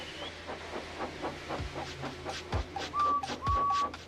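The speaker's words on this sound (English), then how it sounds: "So they lit his fire, made lots of steam, and Edward puffed away" Rhythmic chuffing puffs of a steam locomotive build steadily, with hissing between beats and a brief high whistle near the end.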